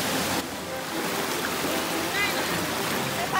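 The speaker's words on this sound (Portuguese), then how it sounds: "se divirtam-se com o barulho da cachoeira" A continuous rush of falling water from a waterfall fills the scene, broad and steady, with a faint high chirp briefly audible over it.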